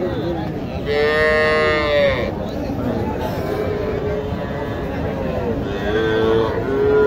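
Cattle moo loudly and close by at a cattle market in Naogaon, Bangladesh, with long low calls repeating, over a busy background of crowd chatter and livestock noise.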